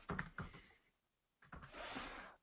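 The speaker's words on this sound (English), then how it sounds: "Apparently I can't type and talk at the same time." Two short runs of computer-keyboard typing separated by a brief silence, the key clicks close and soft, with the second run denser and more sustained.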